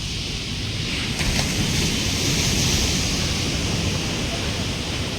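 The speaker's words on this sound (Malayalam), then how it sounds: "നല്ല കാറ്റുമുണ്ട്." Strong wind roars at the seashore during a rough sea, buffeting the microphone in a constant broad rush with surf beneath it.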